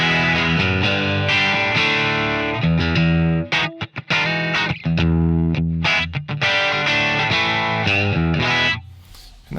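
Distorted electric guitar played through a Genome amp sim with a dark-toned Calibro73 2x12 cabinet, loud dense riffing with rhythmic chugging chords, a few sharp stops, and a ringing fade at the end.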